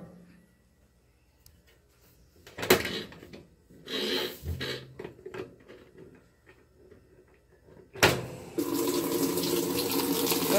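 Tap water runs into a sink while a cup is rinsed out in a home laundry area, preceded by scattered clunks and handling knocks, then a loud steady gush of running water to the end.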